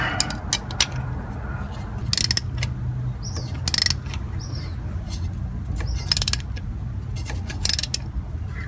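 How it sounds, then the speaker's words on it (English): A ratchet tightens a bolt on a 2003 Jeep Liberty engine during camshaft and crankshaft position sensor work, heard as several short bursts of quick clicking spaced between quieter mechanical handling, fairly close and moderately soft. "Alright, now I just gotta line up the bolt, tighten it up here."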